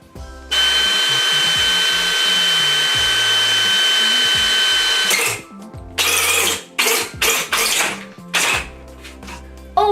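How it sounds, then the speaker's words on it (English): A power drill with a hole saw cutting into a tube clamped in a vise: a steady loud whine for about five seconds, then stops and several short bursts of rubbing and scraping as it finishes. "So I've marked a place to drill with this hole saw,"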